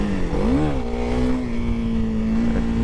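A Honda CRF300L motorcycle engine labours at low revs in fifth gear with a steady droning hum that dips and rises briefly, then holds level, recorded on board with constant road and wind rush.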